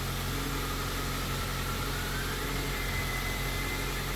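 An EM2 car fitted with a new stage 1 clutch runs with a constant, dense engine drone and road rumble heard from inside, steady and unbroken with no talking.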